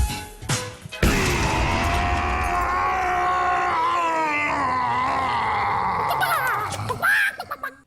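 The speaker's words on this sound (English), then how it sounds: "Today's scream brought to you by the story Dills is about to tell" A long, loud, strained scream serves as a podcast segment sound effect, preceded by a brief sharp hit, holding steady for several seconds before breaking off abruptly.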